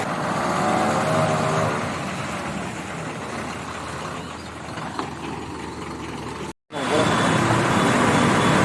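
A truck pulling away from a roadside dhaba on a rainy day, a steady loud engine drone and road rumble heard from inside the cab, with a brief cut before the noise resumes.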